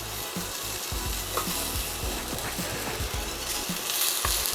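White potatoes and onions sizzle steadily in a hot pan for a Jamaican curried shrimp dish, with scattered low knocks and scrapes of stirring throughout and no talking.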